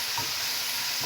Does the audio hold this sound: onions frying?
yes